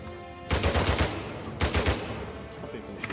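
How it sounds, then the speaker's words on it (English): Uncharted 4 gunfire crackles out in two loud rapid bursts, each close and lasting about half a second, followed by fainter scattered shots further off. "Stop him from shooting me."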